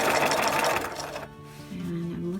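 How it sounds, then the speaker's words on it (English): A sewing machine stitches along piping on a large beach bag, a fast whirring run that stops midway, followed by a softer pause and faint shifting. "I'm going to sew as tightly, feeling my way along this piping."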